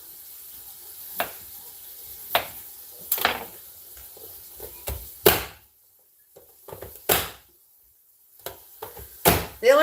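A manual vegetable chopper working through ingredients for an old-fashioned beef stew gives a series of sharp, separate thunks and clacks at irregular intervals, close and fairly loud, with quiet kitchen noise between strikes.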